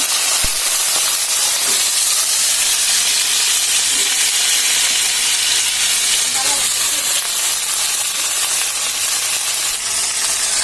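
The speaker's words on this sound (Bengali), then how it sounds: "তো এখন হচ্ছে সিমগুলা দিয়ে দিব, তেল গরম হয়ে গেছে।" Green beans sizzle and fry in hot oil in a home kitchen, a steady close hiss running throughout with faint stirring clatter and no talking.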